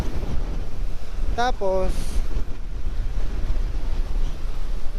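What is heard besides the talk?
strong wind and waves by the sea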